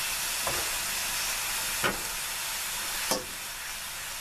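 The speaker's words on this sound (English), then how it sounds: "Throwing pears back in the pan." Pears drop back into a Dutch oven with pork loins and leeks, a steady soft sizzle broken by three faint bumps as the pieces land, with no talk.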